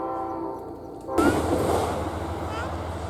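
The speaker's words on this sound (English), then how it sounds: "The Amtrak train just went by" An Amtrak passenger train roars past close by, a sudden loud rush of rumbling wheels and wind that cuts in after a quieter stretch and keeps going.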